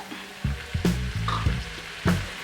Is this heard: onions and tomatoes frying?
yes